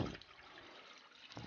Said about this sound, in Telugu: 2 cups వాటర్ని ఇందులో పోసుకోవాలి